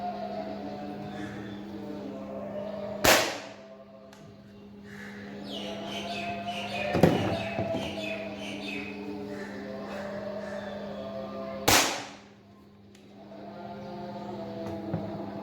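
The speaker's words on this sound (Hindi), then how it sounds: "तो फर्स्ट हम दोनों एयरगन्स को इकट्ठे लोड कर लेते हैं ताकि कंपैरिजन सही से हो जाए। तो हम इसको फायर करते हैं।" A Chinese LB-600 airgun and a Paragon Model 27 airgun each fire with a sharp, loud crack, three distinct shots spaced several seconds apart over a low steady hum, with faint birdsong in the background.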